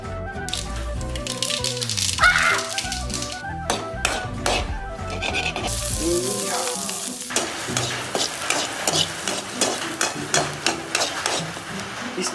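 Onion fries in hot oil in a home kitchen pan, a busy sizzle with rattling and stirring clatter, louder clanks early, then a steadier crackling fry.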